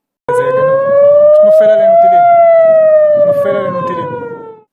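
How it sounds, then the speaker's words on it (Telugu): A loud wartime air raid siren in an Iranian city rises slowly and then falls, one long sustained tone with faint background noise underneath. "టెహ్రాన్ ఇస్ఫహాన్ మాషాద్ వంటి నగరాల్లో వార్ సైరన్లు మోగుతున్నాయి"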